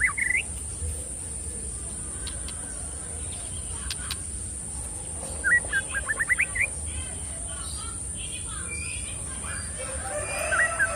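A caged white-rumped shama gives short, bright chirps: a quick run of notes in the middle and a few isolated calls near the start and end. They sit over a steady background hum and low rumble.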